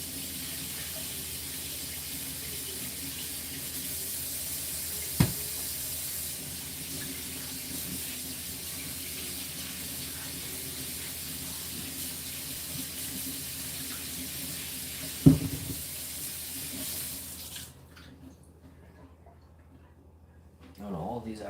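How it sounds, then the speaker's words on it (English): Hot water running steadily from a kitchen tap while five apples are rinsed, a constant hiss with two brief sharp knocks, stopping near the end; a voice talks over it. "let's just wash these 5 apples"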